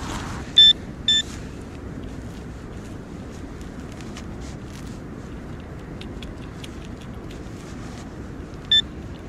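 Short electronic beeps from a metal detector searching for a hammered coin sound three times, two close together early and one near the end, over steady outdoor wind noise.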